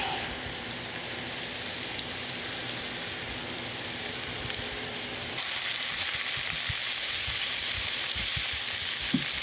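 Zucchini noodles frying in a pan, a steady close sizzle and crackle running the whole time, with soft stirring clatters toward the end.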